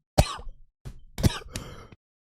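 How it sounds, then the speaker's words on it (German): A person coughs in a short run of three or four sharp, throaty bursts, close and fairly loud, with brief silent gaps between them. "das fuckt ab, dass ich husten muss"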